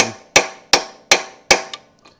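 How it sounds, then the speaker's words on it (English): Four sharp, ringing hammer blows on a metal extension at an even pace, working on a 1975 Kawasaki KE125 motorcycle, followed by a lighter tap and a faint clink as things settle. "I do have this extension and a hammer that I can wallop"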